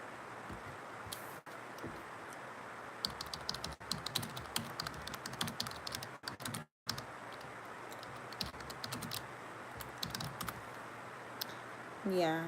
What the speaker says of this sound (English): I'm just typing in stuff on Google